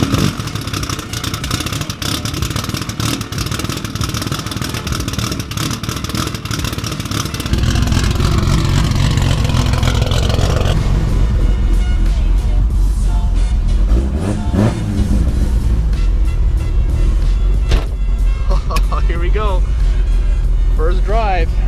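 A Nissan 240SX S14 with a self-built RB26/30 engine idles and warms up close by, its steady engine drone shifting into a deeper, louder rumble partway through, with clattering and talk in the background.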